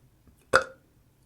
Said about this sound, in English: I just discovered that I have a burp button just here.